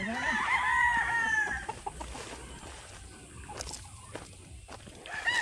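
Chickens near a coop give a loud, nearby crow that rises and falls, then scattered clucks and scratching under a low outdoor background.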